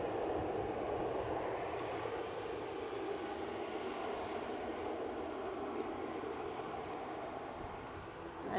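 Steady broadband roar of an aircraft near Edinburgh Airport, moments after a bouncing one-wheel landing, holding constant and loud throughout with no talking.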